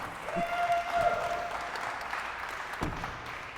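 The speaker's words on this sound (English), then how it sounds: "All right, let's give him a big round of applause." An audience applauds at a veterans' charity award ceremony for a vehicle giveaway, giving a brief, moderate burst of clapping that fades into a softer wash, with a faint whistle-like tone early on.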